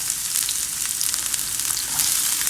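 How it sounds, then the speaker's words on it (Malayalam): Chopped onion frying in oil in a pan gives a loud, dense, continuous sizzle heard up close, crackling evenly throughout with no voices. "ആദ്യം തന്നെ ഒരു പാനിൽ എണ്ണ ഒഴിച്ചിട്ടുണ്ട്. അതിലേക്ക് നമ്മുടെ ഈ സവാള ഇട്ട് കൊടുക്കാം."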